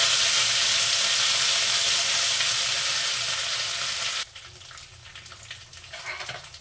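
Ginger-garlic paste hits a hot pan for palak paneer with a loud, dense sizzle that drops off abruptly partway through and then continues as a quieter crackle with faint scraping.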